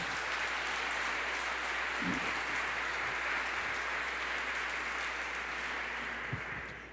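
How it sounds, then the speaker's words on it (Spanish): A church congregation applauds together in dense, sustained clapping that holds steady for several seconds and then thins slightly toward the end, with no voices clearly heard above it. "Démosle un aplauso al Señor."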